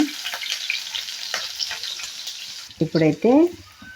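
Onion, green chili and cumin frying in hot oil in a pan, giving a steady close sizzle with light stirring, and a voice speaking briefly near the end.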